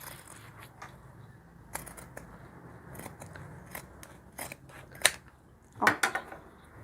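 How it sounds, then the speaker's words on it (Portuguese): Scissors snip through a fabric sleeve for a handmade rag doll dress, a few crisp close cuts spaced irregularly and the loudest near the end, over a quiet room. "Deixa eu só cortar aqui a minha manga"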